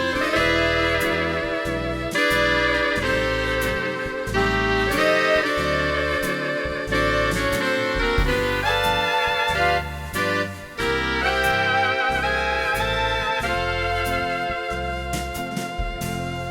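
Ketron arranger playing a vintage dance band style, saxophones carrying the melody over a jazz guitar strum, bass and light drums, a full continuous band sound with no voices.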